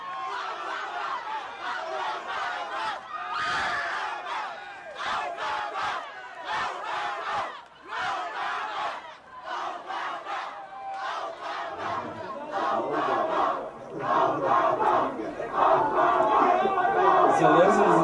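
A crowd yelling and cheering around someone being tasered, agitated shouts and bursts of voices in uneven clusters, with some chatter and laughter, growing louder and denser near the end.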